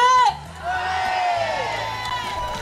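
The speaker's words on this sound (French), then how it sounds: "Merci d'applaudir" A concert audience at the Nuit Blanche festival in 2013 cheers and whoops loudly as a group is announced, with sustained shouting and a steady low thump underneath.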